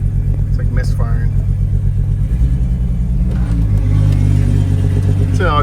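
A Jeep Wrangler engine idles roughly and misfires with an uneven, lumpy low rumble, close and loud throughout, while people talk over it.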